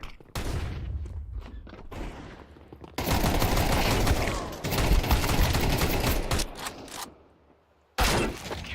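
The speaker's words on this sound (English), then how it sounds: "I'm throwing a flashbang." A flashbang grenade is thrown during a Counter-Strike 2 match, with loud, dense bursts of in-game gunfire and sharp bangs filling most of the stretch, broken by brief quieter gaps.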